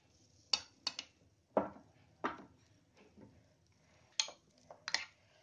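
Jalapeños being stirred into a mustard sauce dip with a spoon, giving several sharp separate clinks and taps against the bowl, close and fairly quiet with pauses between strikes.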